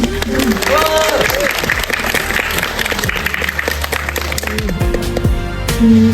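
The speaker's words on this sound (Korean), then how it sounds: "박수 다시 부탁드립니다" Audience applause for the interpreters at a Korean film event, a dense, steady wash of clapping with some crowd noise and a few voices mixed in, sustained and fairly close throughout.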